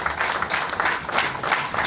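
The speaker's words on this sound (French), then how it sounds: "Applaudissez pour Jésus" A church congregation claps and cheers for Jesus during a live worship service, dense applause rolling in uneven surges, close and full, with crowd voices mixed in.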